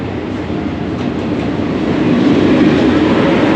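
A train arriving at a Thai railway station rumbles in as a steady, loud, continuous roar that grows slightly heavier toward the end, with no speech over it.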